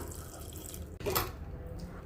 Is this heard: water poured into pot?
yes